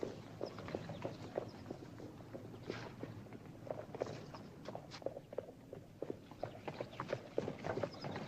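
Horses walking on a street in a western town, hooves clip-clopping in a steady uneven rhythm at moderate distance, faint beneath a low ambient background with no talking.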